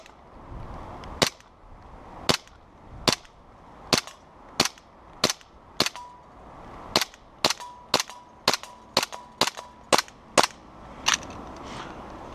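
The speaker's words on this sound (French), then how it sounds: "on va voir ce que ça donne à 10 mètres en semi" A Glock 23 Gen 4 airsoft pistol fires semi-automatic at a 10-metre target, giving about fifteen sharp, crisp pops at irregular intervals with quiet gaps between them.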